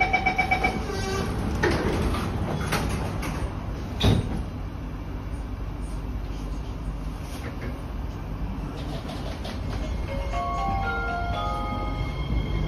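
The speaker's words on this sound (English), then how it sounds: "Doors are closing." A Kawasaki Heavy Industries & CSR Qingdao Sifang C151B metro train on the East West Line, with its doors sliding shut and a thump, then a steady rolling rumble and whine as it pulls away, heard from inside the carriage.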